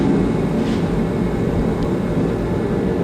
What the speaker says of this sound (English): It's getting pretty cold in the garage, so turn the little bullet heater on.